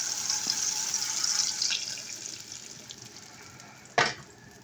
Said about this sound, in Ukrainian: Коли помідори обжарились, заливаємо їх зверху яйцями.